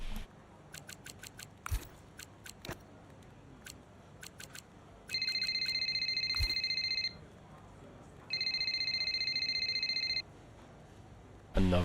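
A phone call ringing in the F1 25 video game, two sustained electronic ring bursts of about two seconds each, separated by a pause and preceded by scattered clicks and taps, fairly loud with no talking over it.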